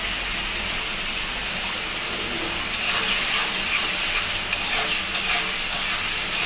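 Prawns frying in a pan for a bottle gourd curry give a dense, continuous sizzle, growing slightly brighter and spattery midway as they are stirred, with no talking.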